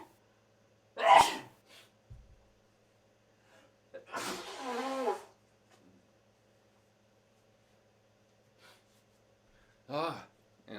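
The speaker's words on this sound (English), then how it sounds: "Now here comes that sneeze finally." A person sneezes sharply and close to the mic, followed by a long, breathy sneeze or gasp and then another short burst near the end, with quiet pauses between.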